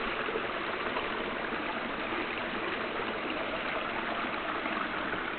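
Creek water runs over rocks along a steep, rough stretch of creek below a rock bluff, making a steady, even rush with no pause.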